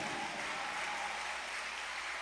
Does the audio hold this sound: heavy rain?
no